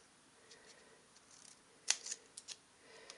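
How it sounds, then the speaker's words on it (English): Scissors snip through card stock while trimming a shirt-shaped greeting card: a handful of quick, close, crisp cuts cluster in the middle and latter part, over a quiet background. "I'm just going to trim and trim a little bit there"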